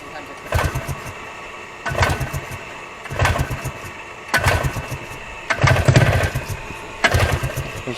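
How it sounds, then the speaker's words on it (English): Mini bike engine being cranked over and over, six separate short bursts of starter and sputtering engine noise at a regular pace, close and fairly loud against a low background hum. "Let's see if it starts up on this one."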